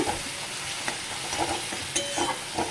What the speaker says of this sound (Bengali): এবার দিয়ে এটাকে একটু ভালো করে নাড়িয়ে নেব।